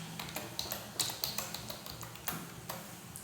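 Fingers type on a computer keyboard, producing soft, irregular, quiet keystroke taps scattered over a low background hum, with no voices.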